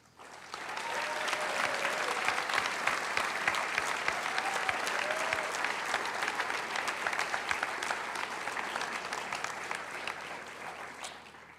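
Audience at the 2026 Antioch University New England commencement ceremony applauds the graduates with steady, dense clapping that holds for over ten seconds before tapering off at the end.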